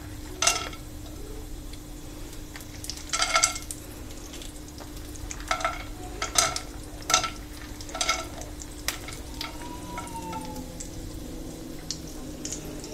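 Mixed dry fruits, without raisins, roasting in ghee in a pan for sweet vermicelli, giving soft sizzling with intermittent stirring scrapes in irregular bursts, close and moderately quiet.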